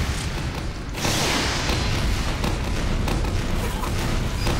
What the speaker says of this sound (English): There's so many explosions happening.